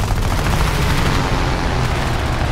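Continuous, dense rattle of aircraft cannon and machine-gun fire during a dogfight in the War Thunder flight game, loud and unbroken across the whole stretch with no voices over it.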